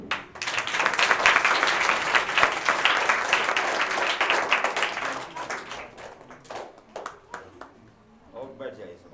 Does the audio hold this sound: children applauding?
yes